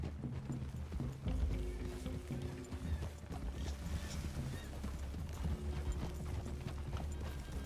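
Horse hooves clip-clop at a steady walking pace in the Red Dead Redemption 2 game, moderately close, over a low ambient rumble and wilderness background with no talking.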